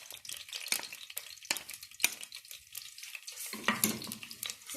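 Garlic paste sizzles and crackles in a cup of hot oil while being stirred, with sharp frying bursts and clinks over a steady sizzle throughout, close and moderately loud.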